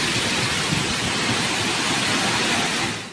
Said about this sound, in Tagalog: Malakas na hangin na sinabayan ng walang tigil na buhos ng ulan.